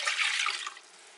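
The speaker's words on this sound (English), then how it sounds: "pour your water into your" Water poured into a pot to cook gluten-free pasta, a close, steady splashing rush for about a second that tapers off quieter at the end.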